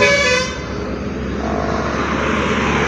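Indonesian telolet bus horn on the road near the Cidolog bend, a loud, sustained tonal blare with engine roar beneath, heard close by and continuous throughout.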